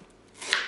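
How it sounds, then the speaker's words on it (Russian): A knife chops onion on a cutting board with a short, crisp chop that swells near the end of a quiet moment in a home kitchen. "Лук вот я поменьше измельчу."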